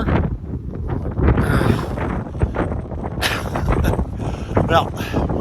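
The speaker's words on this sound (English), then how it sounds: "the wind is picking up, so it should move that way in short time" Wind gusting outdoors during a snow storm, buffeting the microphone with rumbling roars that rise and fall beneath a voice talking throughout.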